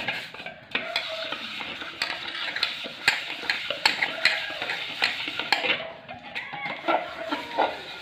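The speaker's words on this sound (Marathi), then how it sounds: "या घासणीपासून आपण हे धुणार आहे, हे क्लीन करणार आहे" Steady scrubbing and scraping of a scrubber against a pot, its rhythmic strokes mixed with light metallic clinks, close and fairly loud, with no talk.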